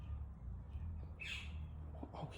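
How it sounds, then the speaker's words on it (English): A bird lets out one harsh squawk midway through, moderately near, over a steady low hum of background noise, with no talking. "Bird's going to have a bit of trouble taking off, I do believe"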